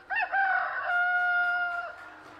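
A man imitates a rooster's crow, one sustained, wavering cock-a-doodle-doo call held close and loud for about two seconds, standing in for a neighbour's rooster crowing at the gate before dawn.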